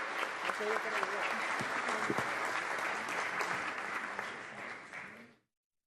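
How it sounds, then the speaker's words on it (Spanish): A formal session audience in Ecuador applauds the country's president as he arrives, a sustained, even roll of clapping with faint voices beneath, tapering off before stopping abruptly. "Lo recibimos con un fuerte aplauso, por favor, al presidente constitucional del Ecuador."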